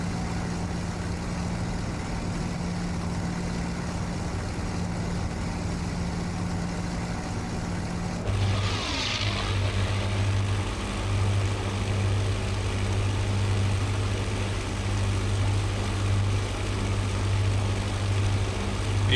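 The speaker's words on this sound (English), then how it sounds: "Beautiful aeroplane." A simulated P-51D Mustang propeller aeroplane flies in Microsoft Flight Simulator, giving a steady droning engine hum that shifts to a lower, throbbing tone partway through, with a brief swish at the change.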